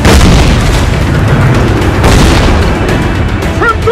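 Ship cannons fire in Assassin's Creed 4 Black Flag during a naval battle, heavy booming blasts that roll over each other, loud and close, with a faint voice near the end.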